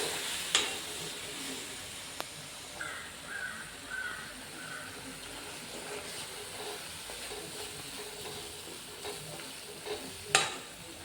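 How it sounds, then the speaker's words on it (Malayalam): A chili powder and vinegar mixture for lubika pickle simmers in a pan, giving a soft, steady sizzling hiss with a few sharp clicks. No one speaks. "വിനാഗിരി ഒഴിച്ചതിന് ശേഷം അത് നന്നായിട്ടൊന്ന് തിളച്ച് വരണം"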